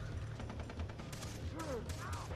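Game gunfire from a light machine gun in Far Cry 3 co-op play, a rapid burst of shots under a steady hum, with whooshing sweeps near the end.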